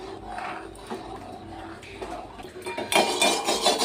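A utensil stirs cardamom powder into sabudana kheer in a pot, scraping and clinking against the metal in a steady rhythm. Near the end the stirring grows louder and more vigorous. It is close and clear, with no talking.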